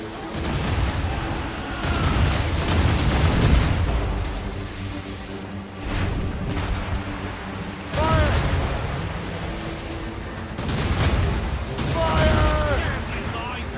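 Cannon fire in a video game naval battle, repeated heavy booms and rumbling blasts roaring continuously and loudly, with shouting voices mixed in over the barrage.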